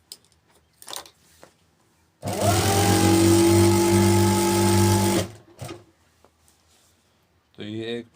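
A sewing machine stitches a gent's suit in a single steady, fast run lasting about three seconds, loud and close, with quiet handling sounds before it and a voice speaking afterward.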